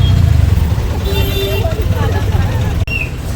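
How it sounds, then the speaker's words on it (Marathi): Ride inside a crowded tumtum auto rickshaw, its engine rumbling steadily up close with passing road traffic and a distant horn toot, people talking over the noise. "आता या टमटममध्ये जाणार परत"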